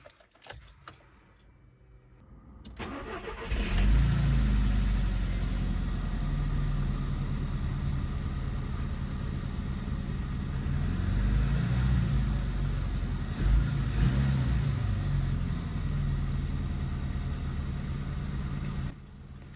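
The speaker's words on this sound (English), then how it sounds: "it sounds super rattly, but I guess that's normal for an engine" Keys jingle, then a Volkswagen Polo 6R GTI engine with engine problems cranks and catches, settling into a loud, rattly idle that runs steadily with slight fluctuations.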